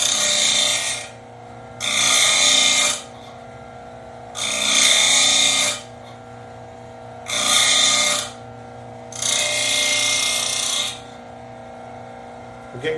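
A blade is sharpened on a grinding wheel in five even bursts of harsh, hissing grinding over a constant motor hum, each pass lasting about a second with short gaps between them.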